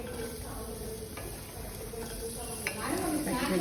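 Onions frying in half a spoon of oil in an AMC cookware pan, with a steady soft sizzle and occasional utensil scrapes and clinks. The sizzle grows a little louder near the end.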